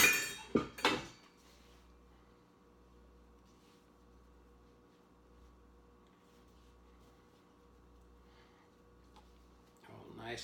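Ceramic bowls clatter and clink as they are moved aside on a kitchen counter during bread dough kneading, a brief cluster of knocks at the start and another at the end, with a steady low hum between.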